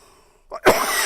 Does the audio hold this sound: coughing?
yes